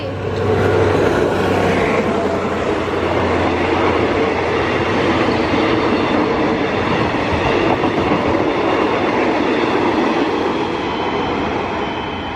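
A diesel train with an MTU engine, Alsthom locomotive 4224, rumbles past close by at a level crossing, its heavy engine drone steady and loud, with rolling wheel clatter throughout before easing slightly at the end.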